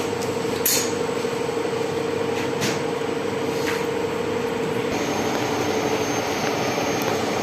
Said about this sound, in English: I'm just filling the hopper to have the base pressure inside the cylinder to 30 bar.